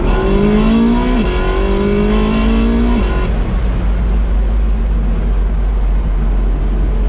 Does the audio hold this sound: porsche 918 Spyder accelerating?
yes